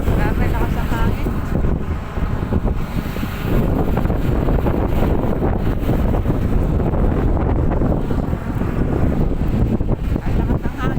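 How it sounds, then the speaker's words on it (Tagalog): Strong wind blows steadily across the microphone outside a former CMC hospital, a continuous loud buffeting roar that stays heavy throughout, with a voice speaking faintly beneath it. "Ang lakas ng hangin."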